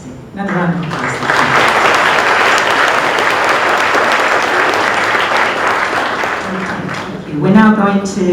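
Sustained applause from a school audience at an award presentation, loud and dense throughout, with voices speaking over the clapping at the start and again near the end.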